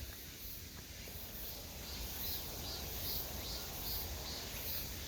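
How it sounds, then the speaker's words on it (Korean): A Korean cicada (chammaemi) sings in a summer outdoor setting, its faint, high buzzing rising and falling in steady repeated pulses, distant and continuous over quiet background noise. "참매미 소리가 나네"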